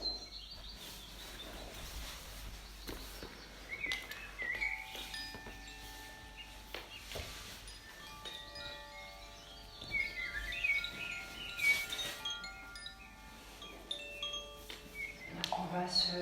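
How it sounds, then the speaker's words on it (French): Spring birds chirping and singing softly in the background, scattered calls and trills at a distance throughout a quiet scene. "Il y a les oiseaux qui vont nous accompagner pour le printemps."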